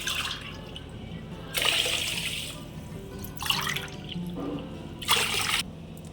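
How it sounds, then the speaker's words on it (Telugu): Water splashes and swishes in bursts as rice and moong dal are rinsed in a bowl, three louder pouring surges over a quieter running-water background. "బియ్యంని పెసరపప్పుని ఒక గిన్నెలోకి తీసుకొని శుభ్రంగా కడుక్కోవాలి"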